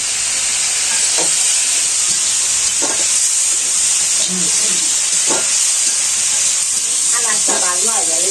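Food fries in a pan in a Bangladeshi village kitchen with a loud, continuous hissing sizzle, while brief bits of nearby voices come through underneath.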